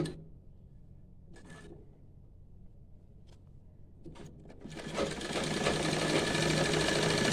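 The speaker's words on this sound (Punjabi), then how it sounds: "ਦੂਸਰੀ ਸਾਈਡ ਵੀ ਸਲਾਈ ਲਗਾ ਲਾਂਗੇ" A sewing machine stitches a pocket onto a salwar. A couple of short whirring bursts come first, then a steady, fast, close mechanical chatter runs continuously through the last few seconds.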